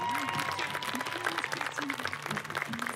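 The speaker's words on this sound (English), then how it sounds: "Let's give them a round of applause." A graduation crowd applauds the graduates with brisk, dense clapping throughout, fairly close, with a voice speaking over the applause.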